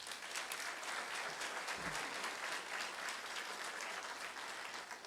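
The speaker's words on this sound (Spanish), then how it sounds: "Quiero darles un aplauso también a ellos." A crowd claps steadily throughout at a politician's public report address, a sustained wash of applause from many hands with no voices standing out.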